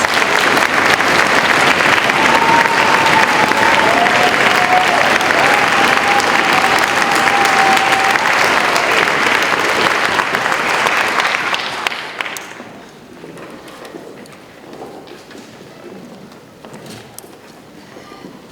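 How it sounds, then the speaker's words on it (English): Loud, dense audience applause at a middle school all-county orchestra concert, a sustained roar of clapping that fades out around the twelfth second, leaving quieter room noise. "Let's give them a warm round of applause."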